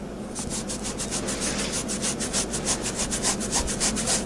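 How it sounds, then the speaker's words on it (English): A cloth rubs vigorously back and forth across the connector of an NES cartridge, a steady rapid scrubbing rhythm of rough swishes, close and continuous without speech. "you want to take your cloth. Okay, and you want to wipe vigorously."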